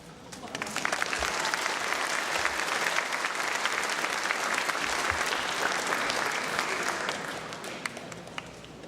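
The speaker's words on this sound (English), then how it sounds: "Can we get a big round of applause for all of our inventions over here?" A crowd at an awards ceremony claps steadily and loudly for about nine seconds, a dense, even wash of hands with no talking on top.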